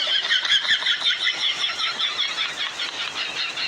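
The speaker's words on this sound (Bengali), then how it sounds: "হ্যাঁ গাড়ি স্টার্ট দে" A vehicle engine cranks and starts up nearby on a rough road, a sustained whirring, squealing run of about four seconds with pulsing loudness and no voices.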